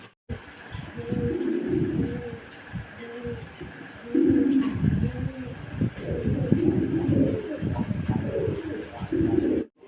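A pair of African Mundian pigeons coo repeatedly in a dense, rumbling chorus close by, with overlapping low calls across the whole stretch and a faint steady hum beneath.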